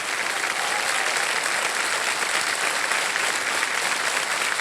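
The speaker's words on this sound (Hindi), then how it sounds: "जोरदार तालियां बज जाए इनके लिए।" A large studio audience on the KBC quiz show applauds loudly and continuously, a thick, even wash of many hands clapping with no pauses or talk.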